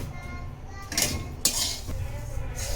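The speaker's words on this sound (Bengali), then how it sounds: "এই সেমাইটাকে নানু তেল দিয়ে ভেজে নিচ্ছে।" Vermicelli being lightly fried in oil in a pan and stirred, producing close metallic scrapes and clinks of utensil on pan with a faint sizzle, two brief louder scrapes standing out over a low background.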